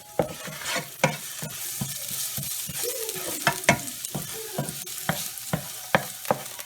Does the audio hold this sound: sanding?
no